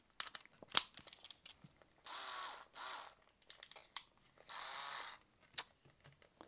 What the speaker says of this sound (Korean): 한번 구멍을 내보겠습니다